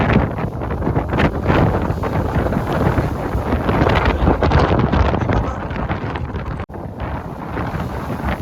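Strong wind gusting by the sea during a fishing outing, roaring and buffeting the microphone with a loud, continuous rush and a brief dropout near the end.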